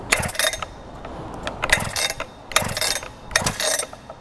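A fire rescue vent saw, fully choked with its decompression valve in, being pull-started: four rattling cord pulls in quick succession, close and fairly loud, with a brief first pop of the engine.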